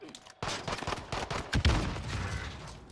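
Bursts of automatic gunfire from a Modern Warfare Warzone match, rapid cracks coming in uneven clusters with brief gaps, loud and close, mixed with game effects.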